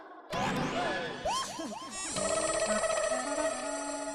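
A phone rings loudly and close at hand in a comedy household scene, its electronic tone sustained and buzzing. Swooshing, crashing sound effects come just before it.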